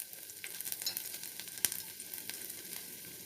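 Garlic fries in hot oil, a soft, steady sizzle with light crackling pops and one brief sharp snap midway, close and fairly quiet.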